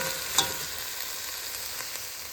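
Sweet potatoes, onions and jalapenos sizzling and simmering in a pot for West African peanut soup, a steady close crackle with one brief clink of a utensil.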